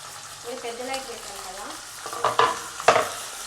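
Capsicum and green chillies hit hot oil with sesame seeds, a soft background sizzle broken by a few sharp, loud stirring clatters near the end.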